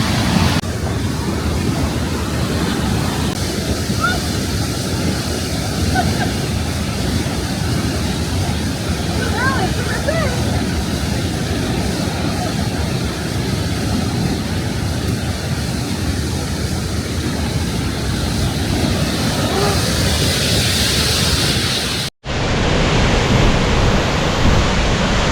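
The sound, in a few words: waterfall, Cascate di Riva in the Dolomites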